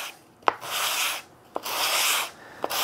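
Plywood is hand sanded with 100 grit sandpaper in three long rasping back-and-forth strokes, each opening with a sharp scuff, close up with no talking.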